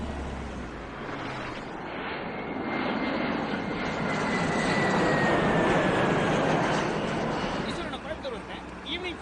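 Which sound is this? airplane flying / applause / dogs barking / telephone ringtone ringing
airplane flying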